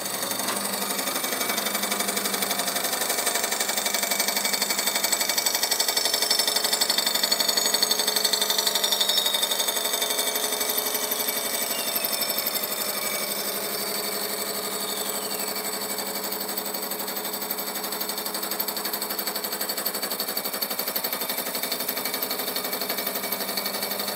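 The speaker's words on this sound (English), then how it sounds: "So turn the spindle on, and then I just engage the power downfeed." A milling machine spindle under power downfeed cuts a miter into a bicycle frame tube held in Paragon Machine Works mitering blocks. It gives a loud, steady, continuous machining whine and grind with no pauses and no voices.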